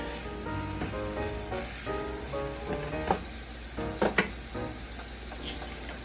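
Sliced zucchini tossed in a hot pan for an Italian meat sauce with zoodles gives a steady close sizzle and hiss, with a few soft clanks of pan and utensil, and no talking.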